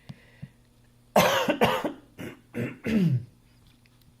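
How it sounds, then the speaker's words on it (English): A man coughs several times in quick bursts and clears his throat, close to the microphone in a quiet room, with a single spoken word just before. "clearing my throat and coughing and stuff"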